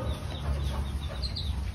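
Chickens cluck and fuss at night while being fed, steady under a dense, noisy background hum.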